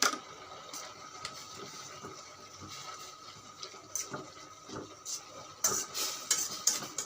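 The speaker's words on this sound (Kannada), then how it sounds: "ಚೆನ್ನಾಗಿ ಕಲಸಿ" Peanut powder being stirred into rajgira greens in a pan, with soft wet scraping and clinks of the spoon against the pan coming in irregular strokes, growing louder toward the end.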